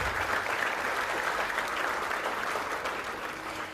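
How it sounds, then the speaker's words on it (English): A dinner crowd at an ethnic business awards gala claps steadily in a dense, sustained wash of applause that fades slightly toward the end, with no speech over it. "I think that deserves a round of applause."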